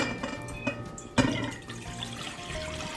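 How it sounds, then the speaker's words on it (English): Warm water at about 113 degrees is poured into a mixing bowl while making bagel dough, a soft running splash of liquid with a brief louder gush partway through. "I'm going to add this warm water to the mixing bowl."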